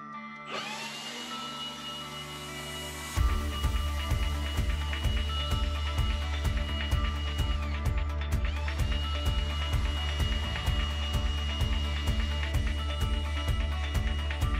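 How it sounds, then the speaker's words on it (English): A Milwaukee M18 cordless blower clears grass clippings from lawn edges, first a quieter whine, then a loud, steady motor roar with a regular pulsing rhythm that continues throughout. "we'll get the blower out and then have a final look"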